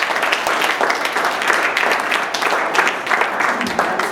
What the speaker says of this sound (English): both teams deserve a particular round of applause